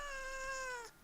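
A single close, drawn-out cat meow, clear and steady for nearly a second before tapering off, heard alone.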